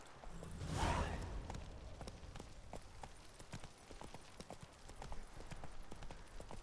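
Horse Roach in The Witcher III clip-clops along in a steady trotting rhythm, hooves close and clear, with a brief whoosh near the start and no talk.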